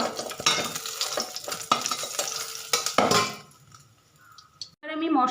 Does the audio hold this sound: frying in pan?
yes